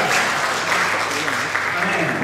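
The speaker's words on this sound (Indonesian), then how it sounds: "Beri tepuk tangan bagi Allah yang luar biasa." A church congregation applauds during a service, a dense, steady wash of clapping that fills the room throughout, with voices talking and calling out beneath it.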